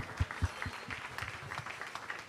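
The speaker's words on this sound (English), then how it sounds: "Give him another round of applause." Quiet, steady applause from a crowd, a dense patter of clapping with a couple of louder thumps near the start.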